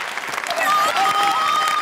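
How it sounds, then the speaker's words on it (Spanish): Audience applause on a TV talent show, a dense sustained wash of clapping with crowd noise, loud and steady, with a tonal line and some voice layered over it. "Les pido un fuerte aplauso para recibir a nuestra artista revelación, Sharon, la hechicera."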